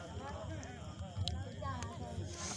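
Horses' hooves clip-clop steadily in a Hindi rural audio drama, as riders approach on horseback; the rhythmic hoofbeats run underneath a continuous speaking voice throughout.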